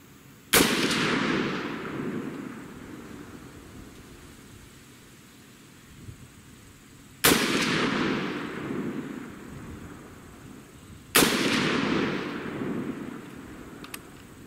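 A 6.5 Grendel rifle fires three single, sharp, loud shots several seconds apart outdoors, each followed by a long, rolling echo that fades slowly.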